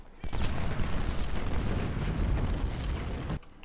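Cannon fire in Ultimate General Civil War, a Civil War battle game: a loud sustained roar of booming artillery and rumbling explosions that runs for about three seconds before cutting off abruptly.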